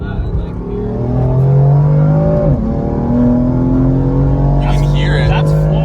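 A BMW M4 Heritage Edition at full throttle, its engine roaring loud and steady from inside the car as revs climb, dip at a shift, then build again, with people talking over it.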